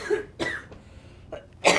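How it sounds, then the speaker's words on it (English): A patient in droplet precautions coughs several times, sharp harsh bursts spaced irregularly, close and fairly loud, with a throat-clearing quality between them and no talk. "Got a cough."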